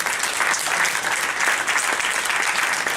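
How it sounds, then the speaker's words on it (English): Loud, sustained applause from a seated audience at a job-search networking talk, dense and steady clapping throughout with no pauses. "let's give you a round of applause for your networking activities"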